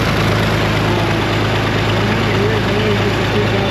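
International Harvester four-wheel-drive tractor engine idling with no muffler, a steady loud low rumble with a constant throb that continues without a break.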